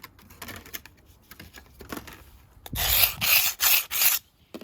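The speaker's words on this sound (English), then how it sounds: "But given that you can rub it with your sanding block," A gritty rasping rub starts after a few faint taps, then comes in four loud back-and-forth strokes of a sanding block against glass.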